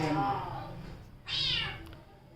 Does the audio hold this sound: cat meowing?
yes